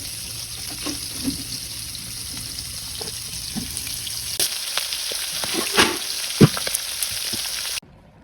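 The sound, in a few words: pangas fish frying in oil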